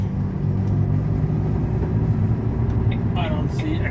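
A foreign truck rumbles along a misty Norwegian road, giving a steady low engine drone that holds through the stretch, with someone speaking briefly near the end.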